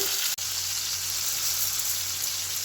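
Chopped tomatoes fry in a pan of tempered oil with bay leaf and five-spice, giving a steady loud sizzle broken by one sharp click near the start.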